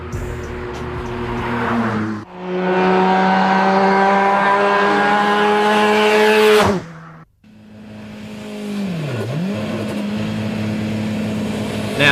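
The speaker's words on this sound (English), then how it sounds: "Nissan Silvia Turbo. Check this thing out. This thing rules." Nissan Silvia Turbo driven hard: loud engine revving through long climbing pitches, a sharp cut between shifts, then a swooping drop and renewed acceleration with tire noise, close by and with no talk.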